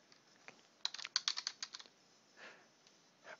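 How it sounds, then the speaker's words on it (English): Clicks from a computer keyboard as someone types into a web browser's search bar: a quick burst of about a dozen crisp, close keystrokes, then a few scattered taps. It is faint and quiet, with no talking. "I could type in there."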